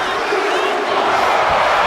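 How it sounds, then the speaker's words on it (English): A wrestling crowd roars at a live match, a dense continuous wall of cheering and shouting that stays loud and unbroken, with no single clear voice above it. "Listen to this crowd."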